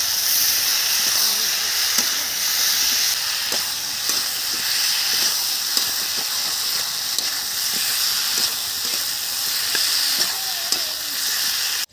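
Spices fry with a steady, close hiss and sizzle in a pan alongside a pond-raised katla fish head, with faint scraping taps now and then.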